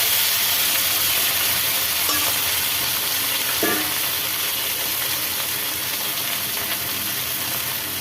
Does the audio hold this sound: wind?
no